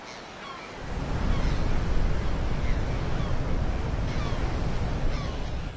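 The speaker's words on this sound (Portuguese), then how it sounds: "as ondas estão cada vez mais fortes à medida que a maré se aproxima" Ocean waves surge against a rocky coast as the tide comes in, a dense, steady roar of surf that swells after the first second and holds loud throughout.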